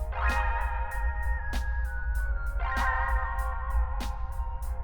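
An arpeggiated guitar one-shot with a magic drip preset, for a drum and bass beat, plays shimmering sustained notes struck in repeating phrases over a steady low bass rumble, loud and close.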